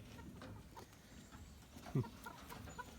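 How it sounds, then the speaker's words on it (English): Farmyard chickens clucking faintly near a hillside garden, scattered soft calls with one sharper squawk midway, over a quiet outdoor background. "Chickens are ready for a snack."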